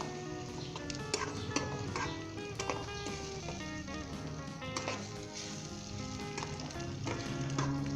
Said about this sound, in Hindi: हमने अच्छे तरीके से कुक करना है अंडों को, और जो हमने मसाला बनाया उसके साथ